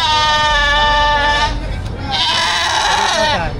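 Goats at a livestock auction in Padre Garcia, Batangas, bleating loudly with long wavering calls that fill the clip, overlapping one another up close against a busy market background.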